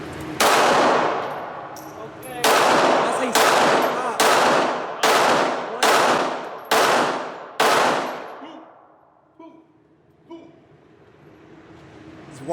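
Video game gunfire rings out in a run of about eight loud, close automatic bursts with sharp onsets and ringing decays, followed by quieter scattered clicks and clanks as the shooting stops.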